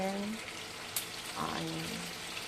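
Salmon belly fries in a pan with a continuous crackling sizzle, close and steady, with a brief clink near the start and a faint voice murmuring in the background.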